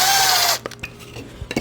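A power drill whirs loudly into wood for a birdhouse for about half a second, then stops, leaving scattered knocks and rubbing of the tool and workpiece.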